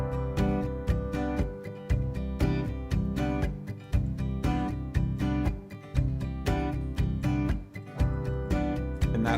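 Layered guitar arrangement combining harmonics with percussive body hits played on the guitar itself, a dense, loud, continuous rhythmic groove with steady pulsing accents and no voices.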